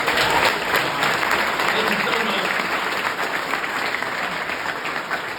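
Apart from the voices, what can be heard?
audience round of applause at demo day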